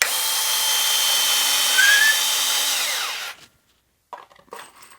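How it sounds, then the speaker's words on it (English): A Genesis 12V cordless drill set on low drives a 2.5-inch drywall screw into a 2x4, a loud, close, steady motor whine with a rising pitch sweep that stops abruptly after about three seconds, followed by a few faint handling clicks. "we're going to start out with some drywall screws, just in a standard run-of-the-mill 2x4 here"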